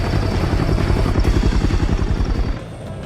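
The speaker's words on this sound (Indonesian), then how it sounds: "Poch datang dengan helikopter." A helicopter arrives in an action film scene, its loud, steady rotor chop pulsing rhythmically for about three seconds with engine roar beneath, easing slightly near the end.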